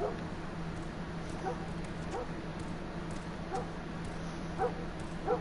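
A dog barks repeatedly in The Last of Us video game, a series of faint, evenly spaced yips and woofs sounding from a distance over a low steady hum.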